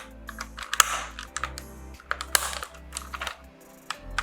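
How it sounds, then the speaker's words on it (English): Plastic trim cover snapping into place on a Toyota Supra HVAC control panel during an LED conversion, a quick series of sharp, close, light clicks and taps with no talking. "slide it over top, click it in place"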